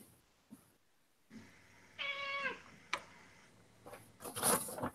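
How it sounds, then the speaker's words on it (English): A domestic cat gives one clear, drawn-out meow at close range, framed by quieter room noise, a sharp click and a later rustling burst. "Cat?"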